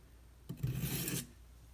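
A knife blade draws once across a coarse sharpening stone, a single short gritty rasp of about three-quarters of a second, close and quiet, with near silence before and after.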